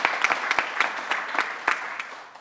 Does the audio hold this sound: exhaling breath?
no